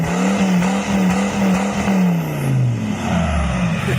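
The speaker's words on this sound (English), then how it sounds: "The growl of this engine might not be as high-pitched as the others, but its unique tone earns its spot on this list." A Volkswagen Touareg V10 TDI engine gives a deep, loud growl, holding a low steady tone before sliding slightly lower, with no talk.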